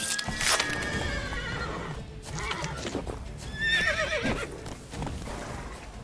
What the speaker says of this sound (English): Looks like I can kill these horses